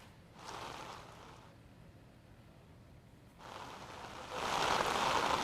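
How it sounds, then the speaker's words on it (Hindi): Heavy monsoon rain pours in Jaipur as a steady broadband hiss that swells in two waves, growing loudest toward the end, with no voices. "देखिए इस समय पूरे जयपुर में जमकर बारिश हो रही है"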